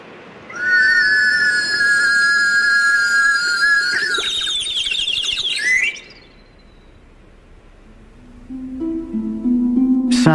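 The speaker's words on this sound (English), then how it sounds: "Just a cup attached to a warbling whistle being lowered into a tank of water." A warbling whistle attached to a cup being lowered into a tank of water trills with a steady bubbling tone that shifts pitch, sounding like birdsong, then falls quiet before a lower whistle rises at the end.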